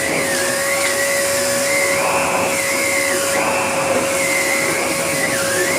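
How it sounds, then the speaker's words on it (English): Karcher T9/1Bp vacuum cleaner with a powered turbohead runs continuously up close, a steady loud whine with a fixed tone and slight wavering shifts in pitch as the suction changes. "I'm going to open the suction relief valve and try again."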